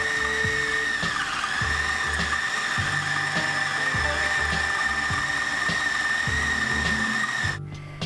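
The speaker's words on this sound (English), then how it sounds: "I'm going to take these one at a time and I'm going to put them in the food processor while it's running" A food processor whirs steadily for brownie batter while dates drop in one at a time, each landing as a rhythmic clatter against the blades under the motor hum, close and loud, no speech.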